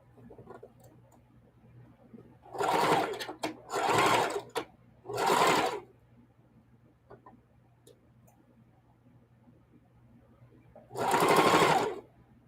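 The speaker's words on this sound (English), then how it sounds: "So I'm sewing the diagonal right here." A sewing machine stitches a diagonal seam across a quilt in short whirring bursts: three close together, then a long pause before a fourth, each steady and close with quiet gaps between.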